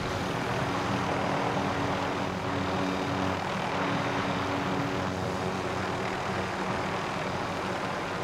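A helicopter flying in the video game Call of Duty Warzone gives off a loud, steady engine and rotor drone that holds evenly throughout, with no talking.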